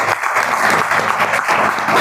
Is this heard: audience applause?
yes